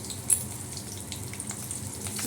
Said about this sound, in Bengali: এখন কাঁচা লঙ্কা, কালো জিরা ফোড়ন দিয়ে দিলাম